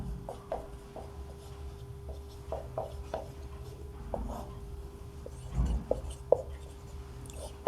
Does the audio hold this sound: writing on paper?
yes